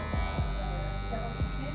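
Electric hair clippers fitted with a number 1 guard buzz steadily through a mid fade haircut at close range, a constant hum with brief scraping passes.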